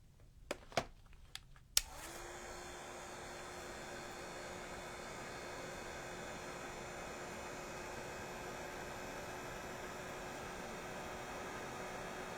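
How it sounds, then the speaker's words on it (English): A heat tool blows hot air onto junk journal book pages in a steady, loud, continuous whoosh. A few sharp knocks come just before it starts. "Let's just go ahead and hit it with the dryer. Well, we'll use the heat tool."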